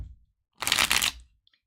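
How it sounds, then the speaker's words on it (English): A deck of tarot-style cards riffle-shuffled once, a close, dense half-second burst of flapping card noise after a brief soft handling sound, alone without talk. "And can I shuffle it correctly?"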